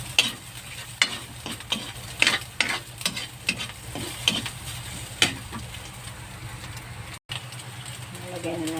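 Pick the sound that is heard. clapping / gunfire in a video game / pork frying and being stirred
pork frying and being stirred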